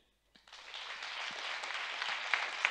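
An audience in a conference hall breaks into applause after a brief silence, the clapping swelling quickly into a steady, fairly distant wash that holds to the end.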